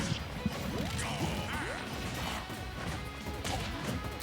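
Forward smash attacks from Super Smash Bros. Ultimate land as a steady run of crashing, whacking hits over busy game sound effects, with no pause across the stretch.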